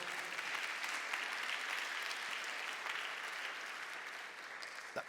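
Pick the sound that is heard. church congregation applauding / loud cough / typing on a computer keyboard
church congregation applauding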